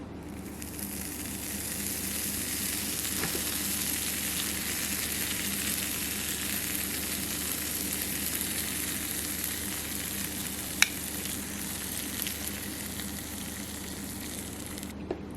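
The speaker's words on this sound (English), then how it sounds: "I'm just going to let this cook until it is extremely crunchy and easy to hold." Egg mixture layered with cheese frying in a pan, a steady, even sizzle and crackle running throughout with a couple of small pops, close and moderately loud with no talking.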